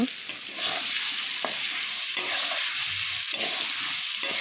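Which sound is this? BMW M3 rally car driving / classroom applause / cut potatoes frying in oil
cut potatoes frying in oil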